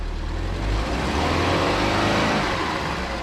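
Subaru Forester with a broken CV axle, its engine held at steady revs while stuck, a loud continuous mid-range motor drone with a deep low rumble, close by and alone.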